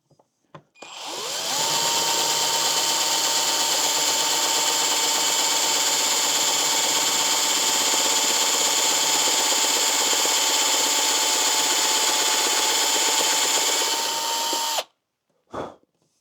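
A power drill whirs at a steady high pitch for about fourteen seconds while building a ham radio antenna, then cuts off, followed by a brief clatter.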